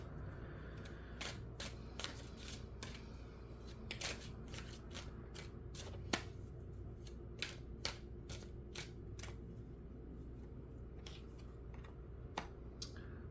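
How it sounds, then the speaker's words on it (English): Tarot cards are shuffled and pulled. The faint, steady ruffling is broken by sharp repeated card snaps and flicks with an irregular rhythm, and nobody speaks. "let's pull a few cards, 3 cards on this Nine of Cups"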